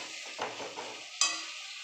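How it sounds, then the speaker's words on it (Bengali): Spice masala with cashews being stirred in a frying pan, soft sizzling broken by scraping strokes, the sharpest at around the one-second mark, close and fairly quiet, with no speech. "মশলা আমার একদম কষানো হয়ে গেছে, কাজু বাদাম দেওয়া আছে, বারবার নাড়াচাড়া করতে হয়েছে।"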